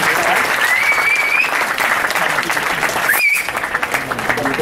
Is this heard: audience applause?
yes